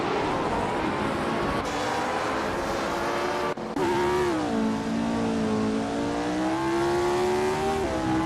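A Ferrari 1512 race car engine in a racing video game screams at high revs, a sustained buzzing whine that drops briefly at a gear change and then climbs again, loud and close throughout.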